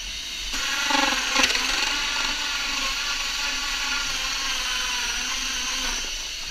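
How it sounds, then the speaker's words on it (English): A hole saw bores through an insulated wooden hive box with a steady, whining mechanical grind that holds its pitch for several seconds, close and fairly loud, with no voices. "We're going to drill this out, and I'll stop at each layer."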